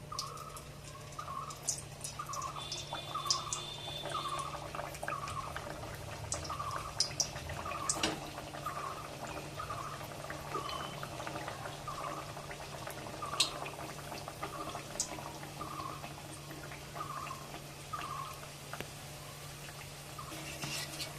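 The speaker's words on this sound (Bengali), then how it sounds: "গ্যাসটাকে কমিয়ে দিয়ে হালকাভাবে তাতের মধ্যে এগুলোকে ভেজে নিতে হবে।" Gaja pastries fry gently in oil over low heat, a soft, steady bubbling with a regular pattern of small pops and drips, quiet and close, with nobody talking.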